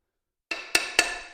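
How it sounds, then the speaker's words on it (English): A light hammer taps three times on the insert of a Floorex 480 satellite concrete grinder, sharp metallic strikes spaced evenly about a quarter second apart, close and ringing briefly after each hit. "light tap there with the hammer"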